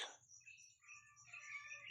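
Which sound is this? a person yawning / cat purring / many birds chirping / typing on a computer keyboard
many birds chirping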